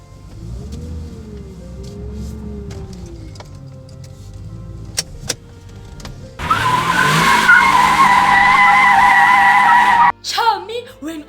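A car drives off with a rising engine note, then a loud sustained tire squeal and revving, cut off abruptly near the end, loud and close.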